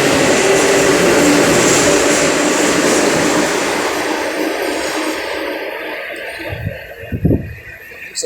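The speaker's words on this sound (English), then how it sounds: "Looks like our train's coming." A train approaching a station with a loud rushing roar and high screech that fades over several seconds, followed by a few low thumps near the end.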